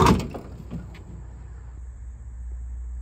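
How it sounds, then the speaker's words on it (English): A 1974-1980 Dodge Ramcharger door fitted with a new Softopper door surround shuts with a single close thud at the start, followed by quiet room ambience and faint rattles. "and now the door can shut."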